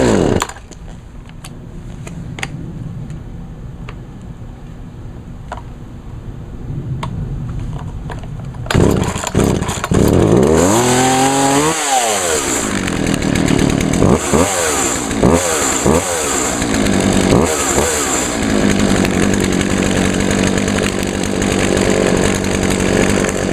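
A Poulan 2075 chainsaw, running again after a carburetor repair, first idles roughly and then roars loudly as the throttle opens, revving up and down several times close by.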